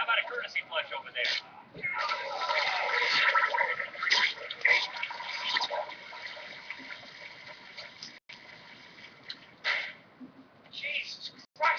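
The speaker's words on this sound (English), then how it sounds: "How about a courtesy flush over there?" A toilet flushes with a rushing, gurgling surge of water that swells and fades, while voices talk over and around it.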